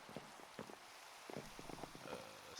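Rain in Minecraft falls as a faint, steady patter of scattered drops under a soft hiss, with no voices present.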